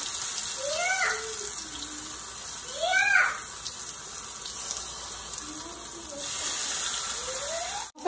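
A thin tortilla spread with sauce frying in a hot pan for red Guerrero-style enchiladas, giving a steady broadband sizzle throughout, with brief voice-like sounds over it.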